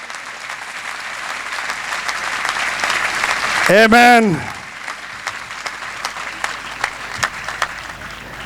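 Congregation clapping in unison at a church service, a steady dense patter of many hands that swells briefly and then continues, with a sung or spoken voice rising and falling over it.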